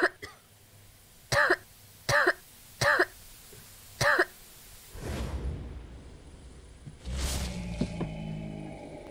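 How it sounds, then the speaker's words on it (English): A woman coughs four times in quick, evenly spaced bursts during horror gameplay, followed by rushing whooshes and rumbling game sounds. "Cough, cough, cough."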